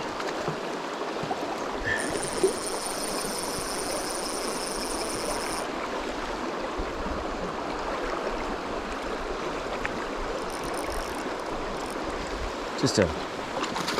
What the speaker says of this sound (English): Just that rolling water on a day like this